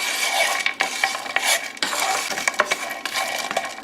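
Cinnamon sticks and whole spices char in a hot pan for Vietnamese chicken pho, giving a continuous close sizzle broken by scraping stirs and small clinks against the pan.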